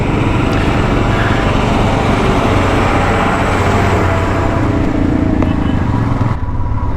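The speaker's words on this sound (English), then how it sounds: "we have got a truck come in." A truck approaching on a gravel-strewn Himalayan mountain road, heard from a moving Royal Enfield motorcycle: loud, constant engine drone and road and wind roar fill the whole stretch, with the vehicle noise swelling under it.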